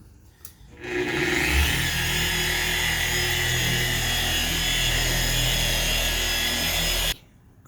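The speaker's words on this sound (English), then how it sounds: "then I'll crank the speed up, and then we'll start polishing this hood and finishing it up" A car polisher buffs a car hood during detailing, a loud steady machine whine with a deep hum running continuously for about six seconds after a brief start, then cutting off abruptly.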